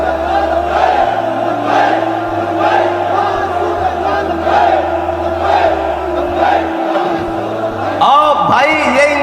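A large crowd chants the Nara-e-Takbir slogan in loud, rhythmic call-and-response waves, with a voice leading over amplified sound and a roar swelling near the end.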